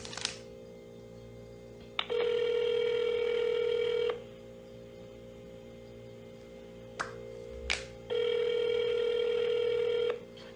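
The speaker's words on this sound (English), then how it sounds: "This one just rang for like 10 minutes." Telephone ringback on an unanswered call, two steady ringing tones of about two seconds each separated by a long pause, clear and even, with brief clicks between them.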